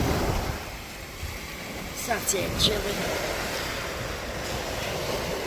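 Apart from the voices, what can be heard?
ocean waves on a beach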